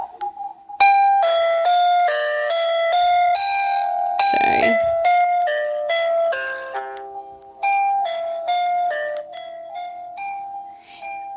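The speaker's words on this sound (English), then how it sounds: "So you can hear the music playing in the background." Tinkling chime-like lullaby melody played from a YOOFOSS wireless video baby monitor, clear and fairly close, with a brief rustle and a quick spoken word partway through.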